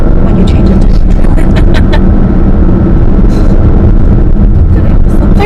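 A 2018 Alfa Romeo Stelvio Q4 engine while driving: a loud, steady, broadband roar of engine and road noise with a windy rush, continuous and close from inside the cabin.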